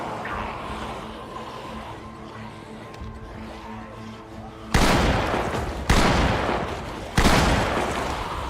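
Gunfire in the zombie survival game Project Zomboid: three loud, sharp shots spaced about a second apart ring out near the end, after a stretch of low ambient hum with no speech.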